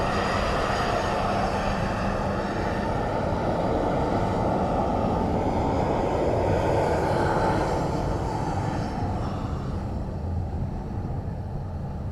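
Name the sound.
ATR turboprop aircraft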